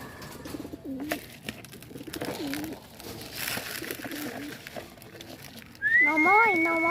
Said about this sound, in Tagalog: He was just feeding the pigeon.